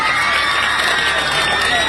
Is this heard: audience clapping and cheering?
yes